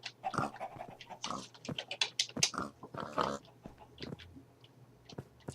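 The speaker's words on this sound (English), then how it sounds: "Alright, pigs." Minecraft pigs oink and grunt in a series of short, irregular snorts, close and fairly quiet, with no talking over them.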